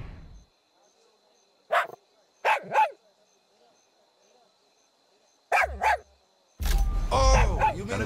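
A dog in the video game Far Cry 6 barks three times in short bursts at close range, with silent gaps between them, followed by a burst of loud game sound.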